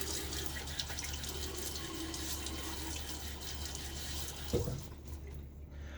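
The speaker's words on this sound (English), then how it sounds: "A little water on my face." Water from a running tap is splashed onto a face before a shave, a soft continuous sink trickle with a brief splashing burst near the end, quiet and close.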